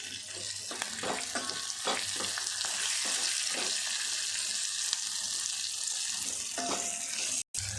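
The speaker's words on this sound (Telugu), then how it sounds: "బెండకాయలు ఫ్రై కానివ్వాలి." Okra pieces frying in a pan, a continuous close sizzle with occasional scraping stirs and faint clinks, briefly cut off near the end, with no talking.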